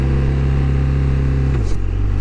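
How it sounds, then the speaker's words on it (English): A touring motorcycle's boxer engine idles in a loud, steady, low throb close by, then the pitch drops slightly as the revs shift near the end. "I feel like this boxer engine is like a tractor engine, especially when you're in the lower RPMs"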